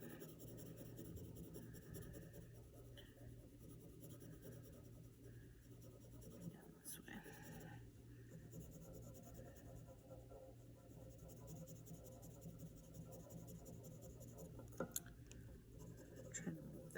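Graphite pencil lightly shading and blending on paper, a soft continuous scratchy rubbing that runs steadily throughout over a low background hum.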